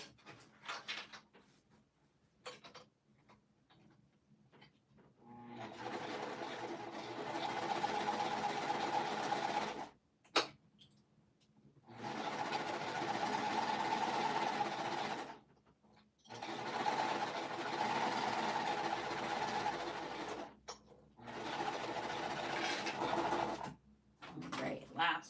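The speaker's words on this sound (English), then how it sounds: "I am going to sew them all at once." A sewing machine stitches cotton fabric pieces in three long, steady runs separated by pauses, its even mechanical whirr close and clear, with a person talking quietly in the gaps.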